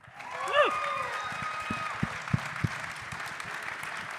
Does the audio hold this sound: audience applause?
yes